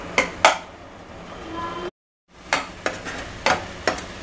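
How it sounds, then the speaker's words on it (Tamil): Beetroot halwa with sugar stirred in a pan, a soft continuous cooking hiss broken by a brief silence, with repeated distinct spoon scrapes and taps against the pan. "லேசாக கிண்டி விடும்."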